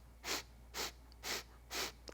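Breathing through the nose during a rhythmic breathing exercise: four evenly spaced, airy breaths, each about a third of a second long, heard close and fairly soft with no talk between them.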